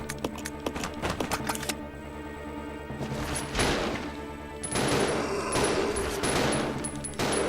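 Rapid bursts of gunfire in the survival horror game Resident Evil Zero, loud repeated shots in quick volleys with short pauses between, over a game music and effects bed.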